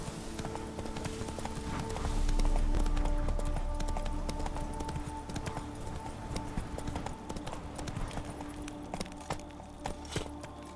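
A horse gallops in The Witcher 3 with a steady, rapid clip-clop of hooves throughout at moderate loudness, set over a low game soundscape with no talk.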